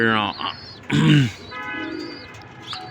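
Silver khaki racer pigeons cooing nearby, soft throaty calls with a brief louder burst mid-way, mixed with faint chirps.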